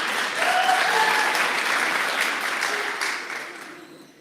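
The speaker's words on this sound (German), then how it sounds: "Een applaus voor mijn mama." An audience claps in a short burst of applause, loud at first and then fading out over a few seconds.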